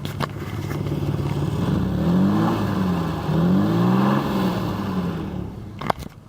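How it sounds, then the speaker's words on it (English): A 3.8-liter 1992 Ford Taurus engine, with a possible exhaust leak, revs up and down in slow surges, with a rough, rattling undertone, close by, ending with a brief sharp click. "It's a kind of strange noise when you rev it. I guess that's maybe possibly an exhaust leak"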